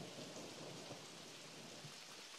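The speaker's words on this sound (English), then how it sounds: "Yeah, it's raining." Steady, soft rainfall in Super Mario Odyssey game audio hisses continuously at a low level, an even wash of falling drops with no talk.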